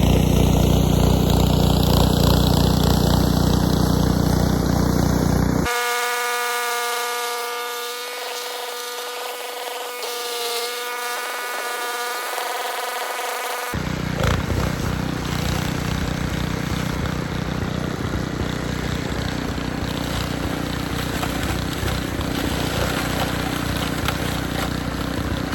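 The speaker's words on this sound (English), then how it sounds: "That's a really heavy snow blower, I guess because it's an older one." An older, heavy Craftsman 6hp snow blower runs in deep snow, its engine droning loud and steady throughout with a brief shift in tone midway as the machine works.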